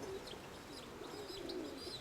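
Pigeons cooing close by outdoors, with a few soft repeated coos and faint chirps over a steady background hiss; no talking.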